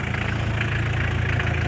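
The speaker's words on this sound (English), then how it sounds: "Engine runs nice and healthy." A 1996 Mitsubishi Fuso Canter's 4M40 diesel engine idles steadily, a close, even low clatter with a regular pulsing rhythm and no voices.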